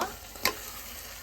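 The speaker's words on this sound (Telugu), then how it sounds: "ఇదంతా యాడ్ చేసుకున్న తర్వాత ఒకసారి కర్రీ మొత్తాన్ని బాగా కలుపుకోవాలి" Brinjal curry fries in oil while a spoon stirs it through the pan. A steady sizzle runs throughout, with one sharp scrape of the spoon near the middle.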